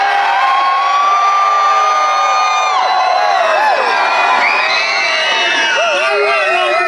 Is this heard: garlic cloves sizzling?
no